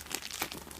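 A Pokémon booster pack is torn open by hand, its foil wrapper giving a loud, continuous crinkling and crackling with small tearing bursts, close up and with no talk.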